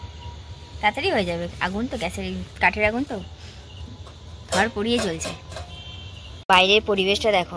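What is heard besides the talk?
crickets chirping outdoors at night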